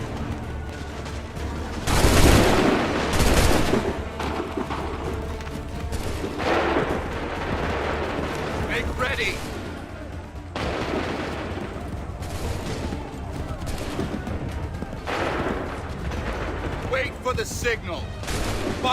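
Musket volleys in Assassin's Creed III, with loud bursts of massed gunfire separated by stretches of battle noise and shouted commands from soldiers.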